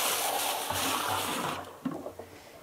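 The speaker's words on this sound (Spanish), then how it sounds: "le vamos a llenar la mitad, unos 100 litros, entonces le ponemos el, agua" Water gushes from a hose into a large tank being filled about halfway, roughly 100 litres, a loud steady rushing that cuts off partway through, leaving a few faint splashes and drips.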